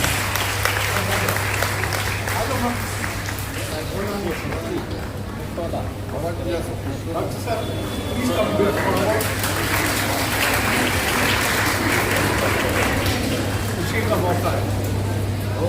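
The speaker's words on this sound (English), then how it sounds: "Give a huge round of applause." Audience applause at a school awards ceremony honouring top graduates, a steady wash of clapping that runs the full length over a constant low hum, with a voice talking faintly beneath it.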